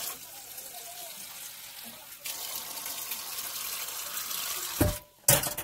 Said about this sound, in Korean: 다시 물 줘야겠네요.